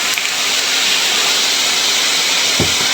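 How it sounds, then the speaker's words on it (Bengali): Water poured onto melting sugar in a hot pan for caramel, a loud sustained hiss of steam that fills the whole moment, with a brief low knock near the end. "ক্যারামেলটা তৈরি করার জন্য অল্প একটু পানি দিয়ে দেব।"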